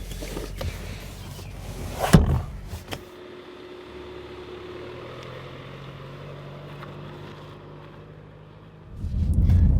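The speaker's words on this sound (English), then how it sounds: "So we start driving in the Volvo S60 Cross Country here in the city, and we get some very bumpy road right here now" Volvo S60 Cross Country driving over a bumpy city road, with a steady low engine and road hum inside the cabin, a couple of sharp thumps near the start and a louder rumble rising at the end.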